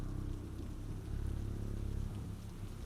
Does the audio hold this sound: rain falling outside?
yes